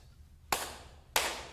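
Two sharp hand claps, evenly spaced about half a second apart, crisp and close in an otherwise quiet room.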